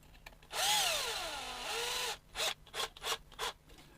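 A power drill drives screws into an RC truck chassis, starting with one long whirring run that rises and falls in pitch, followed by several short bursts of the motor, close and alone.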